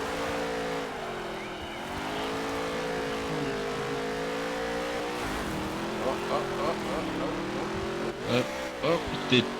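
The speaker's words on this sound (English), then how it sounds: "Was that you that just went sliding across the track?" A race car in the Wreckfest or NASCAR Heat 3 racing games slides across the track, engine pitch wavering and revving with tire noise, while players talk over it.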